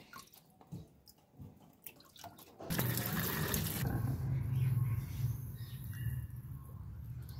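Leafy greens are washed under running water, with quiet handling and splashes first, then a loud, steady gush of water into a basin that continues to the end.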